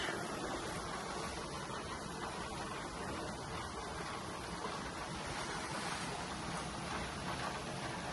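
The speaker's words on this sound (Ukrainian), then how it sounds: "у нас іде дощ" Steady rain falls outside on a September morning, a dense, even hiss that holds without a break for the whole stretch, fairly loud and close, with no talk over it.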